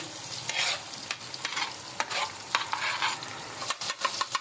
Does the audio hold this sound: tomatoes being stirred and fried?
yes